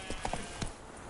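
Roach, a horse in the video game The Witcher 3: Blood and Wine, clip-clops with a few quick, light hoofbeats in an uneven rhythm, faint and close over a soft background.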